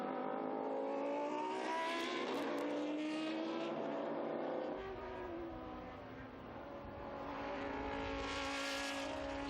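A historic racing car at the Estoril circuit roars past loud and close, engine note rising then falling away before picking up again, with the sustained multi-harmonic howl of a classic race engine filling the scene.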